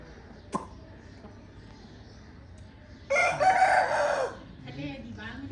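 A rooster crows once in a village courtyard, loud and close, a drawn-out harmonic call of about a second and a half standing out over quiet background and a brief knock just before.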